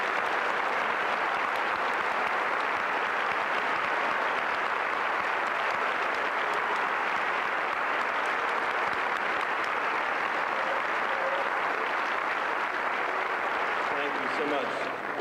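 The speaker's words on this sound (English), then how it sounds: "let's have a round of applause for all of our recipients." Sustained, dense applause from a large crowd at a high school senior awards ceremony, loud and even throughout with no breaks.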